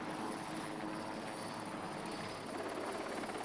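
A helicopter's steady rotor and engine roar fills the whole stretch during helicopter operations at sea, constant and fairly distant-sounding, with no voices.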